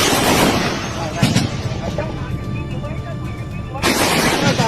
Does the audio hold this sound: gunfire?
yes